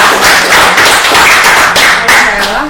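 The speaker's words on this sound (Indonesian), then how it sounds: "Tepuk tangan sekali" A few people clap in a podcast studio, loud and close, with sharp uneven rounds of hand claps and thumps repeating through the moment, a voice briefly underneath.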